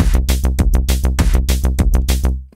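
A melody of brush-drawn notes plays back in FL Studio 21, about a dozen bright, evenly spaced synth notes in a quick steady rhythm, loud and alone, ending abruptly.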